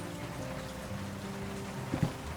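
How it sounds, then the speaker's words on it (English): Steady rain patters against an office window in the video game World of Goo 2, a soft continuous wash with a low ambient hum and a brief louder knock near the end. "The rain beats against the office window"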